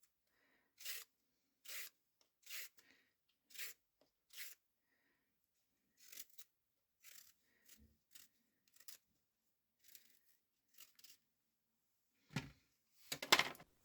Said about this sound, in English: Older and thicker specimens should be peeled.